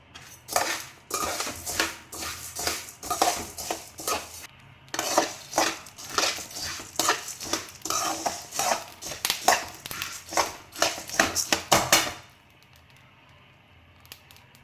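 Coriander seeds dry roasting in a metal pan, giving a busy rattling, scraping clatter of seeds and a spatula against the pan that runs steadily and loudly, then stops abruptly near the end, with no speech.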